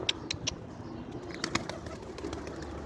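Pigeons take off and fly close by, their wings clattering in a few quick, sharp bursts over a steady low background murmur, with no talking.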